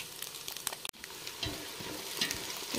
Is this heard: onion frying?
yes